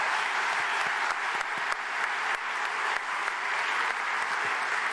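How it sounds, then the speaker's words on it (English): Audience at the Jefferson Center in Roanoke, Virginia gives a speaker a round of applause at an evening speech, steady dense clapping filling the hall throughout with no talk over it. "Can we have another round of applause for Cyrus Pace?"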